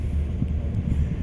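Wind gusts across the deck of a ferry on Saaremaa, a steady low rumble of buffeting on the microphone that stays loud and even from start to end, with no voices.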